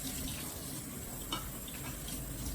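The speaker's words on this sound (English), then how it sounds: "Turn on your cold water." Cold water running from a kitchen tap over beans in a strainer, a continuous hiss and splash close by, steady throughout with a brief clatter midway.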